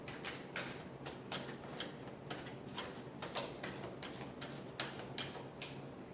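Tarot cards being shuffled in a final shuffle, heard as a quiet, irregular series of crisp riffling clicks and soft snaps spread evenly through the clip, with no voices.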